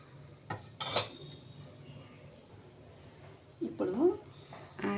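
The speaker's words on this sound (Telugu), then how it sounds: "ఇప్పుడు మనం ఆ చింత చిగురిని మెత్తగా మెదిపేసుకుని దీంట్లో వేసుకుందాం" Tender tamarind leaves mashed by hand and dropped into simmering dal, heard as a few soft clinks and scrapes of utensils against a pot, brief bursts near and fairly quiet, with speech heard between them.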